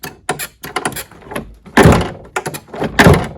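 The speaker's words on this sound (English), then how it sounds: "Got to really push it down, just like that." A series of hollow plastic thunks and clacks as a jet ski seat storage lid is pushed down and latched, several close, loud knocks in quick succession.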